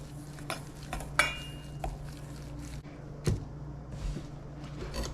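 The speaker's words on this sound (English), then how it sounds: "I'm just gonna go ahead and mix that in." Seasoning being mixed into a large raw chicken breast in a bowl: soft, close stirring and light clinks of a utensil against the bowl, with a sharper knock or two, in a quiet kitchen.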